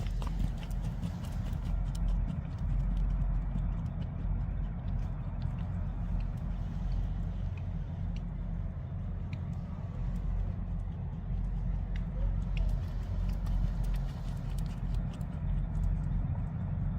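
A horse cantering on a track, with rhythmic hoofbeats thudding steadily under a loud, constant low rumble of motion and wind, recorded from the saddle.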